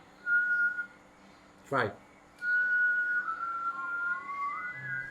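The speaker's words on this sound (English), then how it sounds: "imagine you whistle with your mouth" A person whistles with the mouth, holding long steady notes close by, once with a short pause, then gliding into a wavering higher tone, with a brief spoken word breaking in between.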